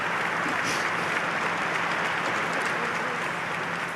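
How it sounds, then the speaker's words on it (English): Sustained applause from a large audience giving a standing ovation, a dense, steady wash of clapping at even loudness that runs throughout without a break. "She also received this standing ovation."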